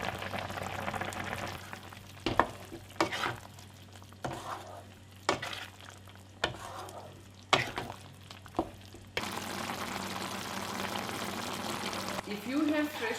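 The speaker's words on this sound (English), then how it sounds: "Gently stir and cook it until the water is reduced and turns into this beautiful gravy." Pork with pounded elephant apple pieces simmering down into a gravy, with a spoon stirring through the pan in repeated bursts of scraping and clatter over a steady bubbling sizzle that grows louder toward the end.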